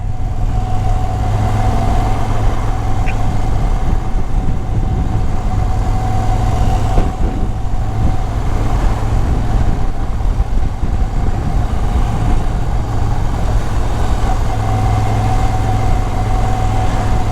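A Moto Guzzi V7 Special motorcycle ridden on a Sunday morning road, its engine droning steadily and loudly throughout with a constant low rumble and wind noise, no pauses.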